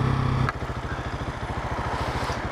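A 2019 Husqvarna 701 SuperMoto motorcycle with a loud exhaust on springtime roads, a deep rhythmic single-cylinder thumping pulse that runs steady and close after a brief louder opening burst.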